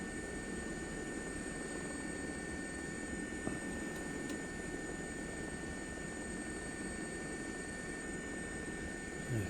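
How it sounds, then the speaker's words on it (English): A helicopter in flight, descending along the River Wyre near St Michaels, gives a steady, unbroken engine and rotor drone heard from inside the cabin, loud and constant throughout with no talk. "I'm just trimming the helicopter in now, and then we'll make our descent and we'll follow the river."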